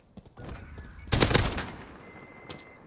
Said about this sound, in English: the AK-47 is quite a handy weapon when in dangerous hands